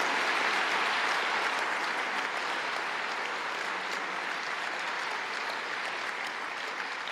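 An audience at a master's graduation evening at Université Paris-Panthéon-Assas gives the graduates sustained applause, a dense, even wash of many hands clapping that fades only slightly over several seconds.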